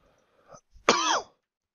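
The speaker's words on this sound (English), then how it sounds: "sorry I'm coughing so much" A single harsh, raspy cough or throat clearing, close and fairly loud, follows a faint breathy sound.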